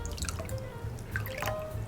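Vinegar is poured into a bowl for sweet and sour sauce, giving a light splashing trickle with scattered drips, faint and close, alone without talk.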